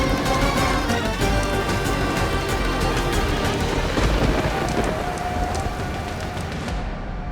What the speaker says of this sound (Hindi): अब ये बरसात नहीं थमने वाली